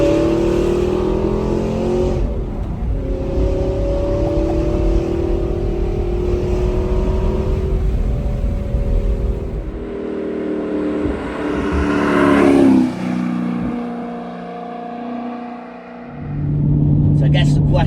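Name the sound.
Audi R8 V8 engine revving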